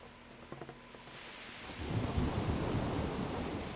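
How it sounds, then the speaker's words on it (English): Rain and thunder in the video game Kingdom Come: Deliverance: a low rumble of thunder swells into steady, heavy rainfall hissing across the scene, with faint musical tones early on and no voices. "The rain sounds nice."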